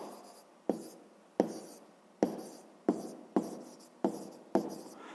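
Pen or chalk strokes writing out a sixth-grade math answer by hand: about seven sharp, close scratches at an uneven, steady pace, each fading quickly, with no voices.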